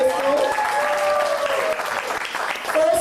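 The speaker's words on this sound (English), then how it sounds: "Clap it up for Crystal." A comedy show crowd in Chicago claps and cheers loudly through the whole moment, with the performer's voice carrying over the applause.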